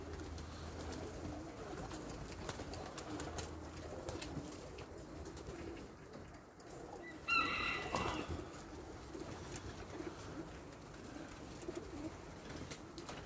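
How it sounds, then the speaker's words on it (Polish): Pigeons coo softly outdoors over faint ambient noise, with a short burst of wing flapping partway through. "ale są tam wysoko tak gołębie"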